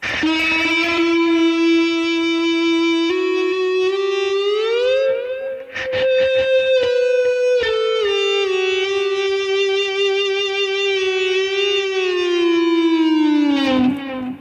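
A sustained, siren-like metallic string tone from a saucepan-bodied string instrument played with an eBow glides slowly up and down in pitch, buzzing and bright, with a few brief scraping interruptions.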